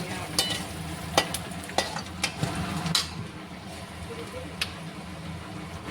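Basic spices, salt, turmeric, chilli and coriander, sizzle and fry in a pan, with a steady low crackle broken by several sharp stirring scrapes and utensil clinks, close and moderately loud.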